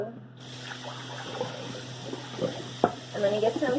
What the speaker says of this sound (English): I'm gonna get some cold water going in my cup